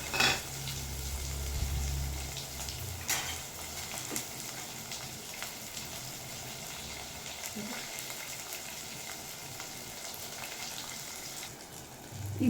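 Mustard seeds and onions frying in a pan give off a soft, continuous sizzle with faint crackles and a few clinks of stirring, low hum at the start.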